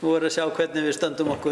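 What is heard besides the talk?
No distinct noise like a dog, phone or traffic.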